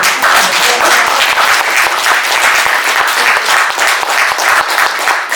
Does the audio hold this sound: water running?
no